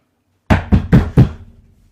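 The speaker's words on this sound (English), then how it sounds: "one by one, they're going to every house knocking on the door" Four firm knocks on a door in quick succession, close and loud, each with a short hollow ring, heard alone against silence.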